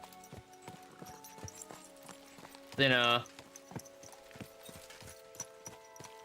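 Horse hooves walking in Kingdom Come: Deliverance 2, quiet, evenly paced clopping steps that continue throughout, briefly interrupted by a short burst of a voice in the middle.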